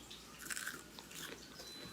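A single close, crisp bite crunches into a spinach fritter made with chickpea flour, followed by soft chewing in a quiet room.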